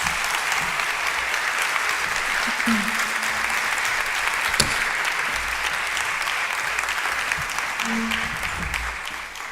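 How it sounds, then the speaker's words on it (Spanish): An audience applauds steadily at a conference to welcome someone speaker, a dense sustained wash of clapping from a large crowd, with faint voices underneath. "Por favor, recibimos con un fuerte aplauso a Isabel."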